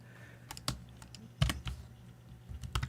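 Typing on a computer keyboard to correct a misspelled name, with scattered close, crisp key clicks in short uneven bursts and no talking.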